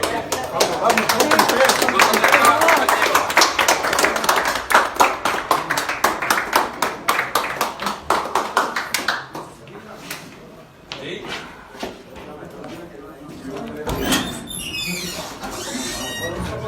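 An audience claps at a public gathering, a steady run of hand claps that builds, then tapers into scattered claps and fades while a voice speaks over it.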